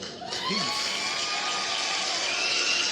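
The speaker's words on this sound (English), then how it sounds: "We're going to hit my crowd applause" Crowd applause sound effect triggered on a podcast, a steady wash of cheering and clapping that swells in at once and holds loud and dense throughout, with whoops on top.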